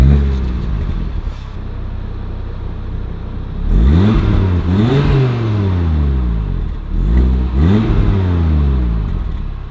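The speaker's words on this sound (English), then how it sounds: "Let me give you a quick startup in dynamic mode" An Audi RS3 8Y Sportback from 2022 starts up in dynamic mode, then its engine revs loud and close in two rising-and-falling blips before dropping back to a steady idle.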